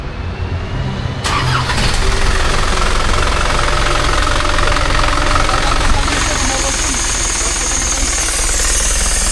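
A vehicle engine is cranked and catches after a quiet moment, then settles into a loud, rough, knocking run that stays close and continuous to the end, with faint voices in the background.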